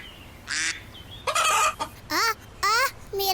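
A cartoon rooster clucks and squawks in several short, bright, bursty calls separated by brief pauses. The calls are close and fairly loud, and no one speaks over them.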